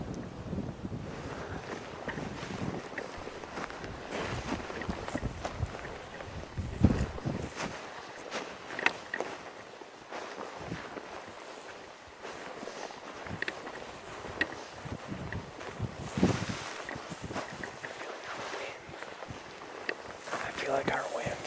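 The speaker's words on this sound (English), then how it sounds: "Man, the wind is blowing right at him." Gusty wind blows outdoors on a hunt, buffeting the microphone with rumbling low roars that rise and fall in irregular surges over about twenty seconds, with faint rustling and occasional voices underneath.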